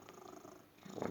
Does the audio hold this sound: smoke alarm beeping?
no